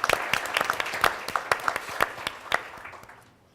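Audience applause at a talk on municipal recovery after bankruptcy, a steady patter of many hands clapping that fills the room and then tapers off toward the end.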